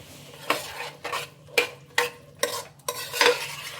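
A spoon stirs vegetable kurma in a pot, about seven distinct scraping clinks at a steady rhythm, close and fairly quiet, with no talk.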